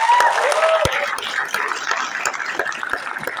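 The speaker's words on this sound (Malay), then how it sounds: "Okey, satu tepukan untuk anda." A seminar audience gives a burst of clapping, fairly close and lively at first, then settling into softer scattered applause with a few sharp individual claps.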